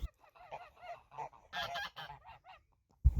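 Geese honking in a wild garden, a short run of nasal calls close by, some overlapping, followed by a louder burst at the end.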